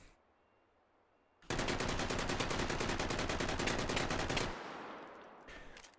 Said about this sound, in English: This is of course an assault rifle, so it comes in semi and full auto.